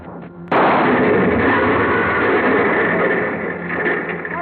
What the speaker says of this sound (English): The car went up in a blast of powder and gasoline